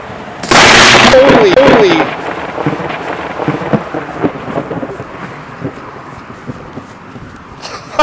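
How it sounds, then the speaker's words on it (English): A nearby lightning strike during a November 2008 supercell storm: a sudden, loud, explosive crack that rolls into rumbling thunder, followed by steady rain. A man exclaims over the din. "Well, I just got struck by lightning."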